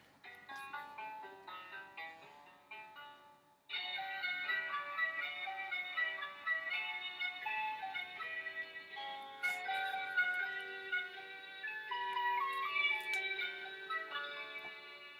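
A bright, plinky electronic melody plays in steady notes, a short tune that restarts partway through, like a toy music box chiming a simple song.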